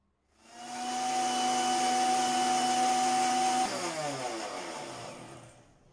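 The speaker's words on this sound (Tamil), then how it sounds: "இப்போ வந்து நாலஞ்சு துண்டு தர்பூசை உள்ளே போட்டுக்கலாம். அதையும் சேர்த்து நல்லா அரைச்சிக்கலாம்." A mixer grinder blends watermelon pieces for a watermelon punch, its motor a loud steady whirring drone with a tonal whine that shifts and roughens partway through as the fruit is churned, then fades out.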